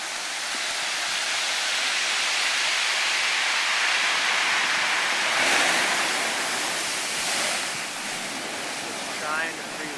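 Ocean waves crash against fresh lava at an ocean entry, a continuous hissing, broadband roar of surf with gentle swells in loudness and a few brief surges near the end.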